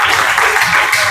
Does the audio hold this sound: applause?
yes